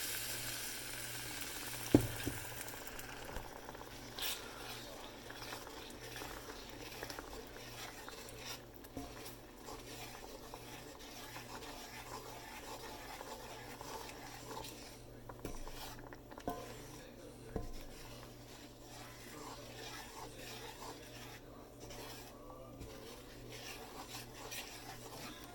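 A spoon stirs heavy cream into tikka masala sauce in a pan, giving a quiet steady sizzle with soft scraping and stirring sounds and an occasional clink of the utensil. No one talks.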